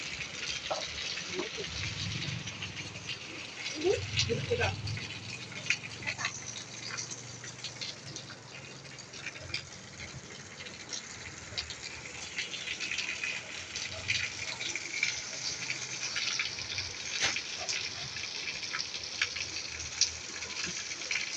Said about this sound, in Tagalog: ganyan lang po yung paggagos dito ng tubig